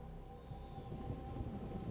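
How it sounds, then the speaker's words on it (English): Steady rain and rolling thunder from the video game A Plague Tale: Innocence form a continuous low, dense rumble with rain hiss that builds slightly over two seconds, with no voices. "Hugo, stay out of the rain."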